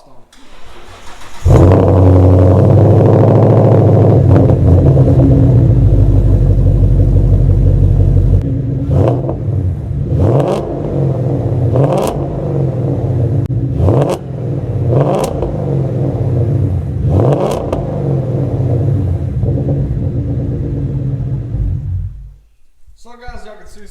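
A wrecked S2000 sports car with an aftermarket exhaust cranks and catches, then settles into a deep, loud idle before several sharp revs rise and fall, growling through a throaty exhaust.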